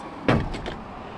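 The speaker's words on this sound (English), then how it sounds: "My door hit the pole." A van door knocks against a pole at a gas station, a single dull thud followed by a couple of faint rattling knocks, close by with no talking.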